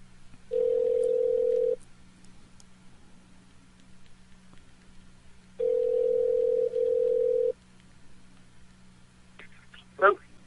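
A steady telephone dial tone sounds in two separate stretches while a call is placed during a radio show, alone over a faint background hum.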